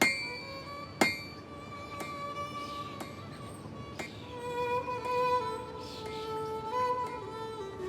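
Blacksmith hammering metal in a desert artisans' workshop in a historic Egyptian town centre, a few sharp ringing strikes spaced about a second apart over a busy background of clinking and ambient noise.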